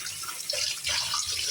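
Tap water runs steadily in a kitchen as cut potatoes are washed, a continuous close hiss and splash with small shifts in flow and no talking.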